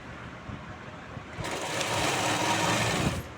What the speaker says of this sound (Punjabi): ਪਹਿਲਾਂ ਸਿੱਧੀ ਸਿੰਪਲ ਇੱਕ ਸਲਾਈ ਮਾਰ ਲੈਣੀ ਆ